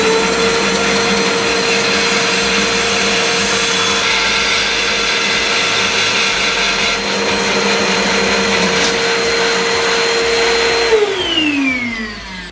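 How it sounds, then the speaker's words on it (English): SIP heavy duty wood bandsaw running steadily through a mitred cut in timber, a constant loud motor whine and blade hum held throughout, then spinning down near the end. "using the ratchet to adjust the table to whatever position we actually want, locking it off, and then we can do our mitred cut."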